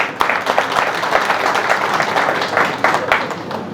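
A live audience applauds a police officer at a Hindi spiritual talk, a dense, steady wash of many hands clapping close by that holds for the full few seconds.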